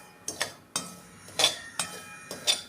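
Semolina (rava) is roasted in a kadhai while a metal spoon scrapes and clinks against the pan in a handful of separate strokes, close and fairly soft.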